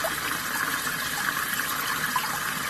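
Water drains steadily out through a French drain line from a crawl space float valve after standing water along the front of a house, a continuous close rushing gush with no pauses.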